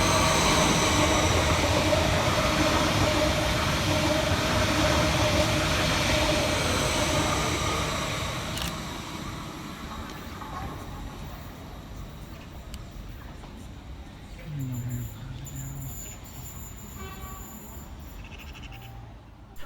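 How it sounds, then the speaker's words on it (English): A Greater Anglia class 745 electric train runs through Stamford Hill station, loud and close at first with a steady rumble and rail roar that fades over several seconds, followed by quieter station ambience and faint distant sounds. "Next up to pass through the station for Greater Anglia is 745-107"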